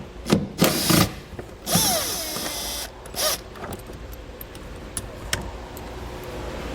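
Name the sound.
removing panel screws with 10mm socket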